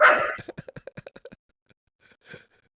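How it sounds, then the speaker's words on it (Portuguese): A dog gives a quick run of short, sharp yips, close and fairly loud, followed by a pause and a couple of faint yelps. "o cachorro já latiu"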